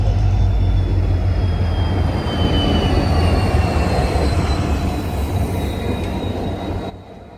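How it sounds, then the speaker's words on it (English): A diesel-hauled Hassan-Yeshwantpur Intercity Superfast Express train rolls past close by while arriving at a platform, with a loud low rumble, wheel noise and faint high squeals, easing off at the end. "So here comes the 22680 Hassan-Yeshwantpur Intercity Superfast Express."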